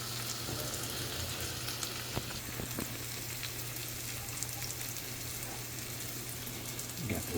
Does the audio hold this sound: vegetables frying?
yes